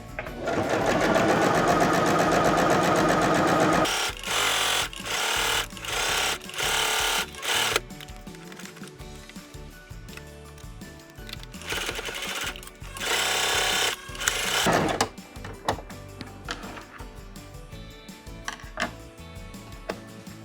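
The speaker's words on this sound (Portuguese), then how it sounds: "Utilizamos lá o ponto overlock dessa máquina, dando assim segurança na junção entre o pano de copa e o barrado." A Singer SS-226c sewing machine runs an overlock stitch joining a tea towel to its border, a loud, fast, steady mechanical whirr in bursts with brief stops and clicks between runs.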